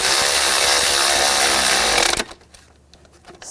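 A power tool runs loudly and steadily while tightening bolts on an oil line bracket of a 2000-2006 BMW X5 with a 3.0L inline-six, then stops abruptly, leaving faint handling clicks.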